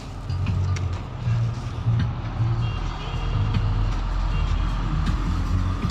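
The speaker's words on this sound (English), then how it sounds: "Concrete trucks rolling up." A concrete truck backs up on a job site, its reversing alarm beeping in a regular repeating rhythm over a low engine rumble at moderate distance.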